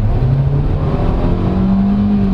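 A 2022 Kia Stonic Style Edition with an automatic transmission accelerates hard from inside the cabin, its engine drone rising steadily in pitch, loud and continuous with no talking.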